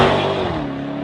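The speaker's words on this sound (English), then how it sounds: "My favourite bit, honestly, is the noise. That exhaust system is disgusting," Jaguar F-Type SVR sports car exhaust revving, a loud, close engine note that holds steady and then eases off slightly across one continuous second of sound.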